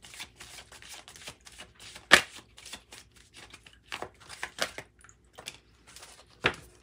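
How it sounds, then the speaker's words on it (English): A deck of tarot cards being shuffled by hand, a run of soft papery riffles and taps with one sharper snap partway through, close up with no speech. "Let's just shuffle them like this for some reason."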